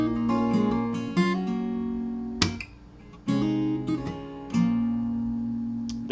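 Acoustic guitar plays the I See Fire riff by Ed Sheeran, strummed chords and rolled notes across strings six to three ringing out clearly, with brief pauses between phrases.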